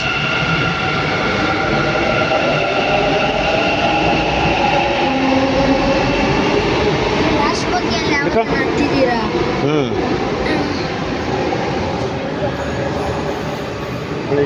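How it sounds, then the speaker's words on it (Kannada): A train rumbles past steadily for the whole stretch, with squealing wheel tones and clattering rising midway, and faint talk underneath. "ಹೋಯ್ತು ರೈಲು ನಾವು ಬಂದಿದ್ದು ರೈಲು ವಾಪಸ್"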